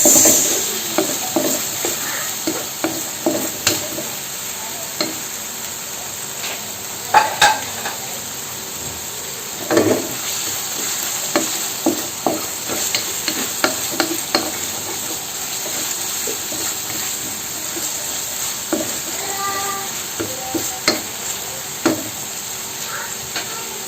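Shredded ginger stirred and sizzling in a pan while cooking butter chicken, with a steady frying hiss and repeated clinking scrapes of a utensil against the pan, close-up and without talk.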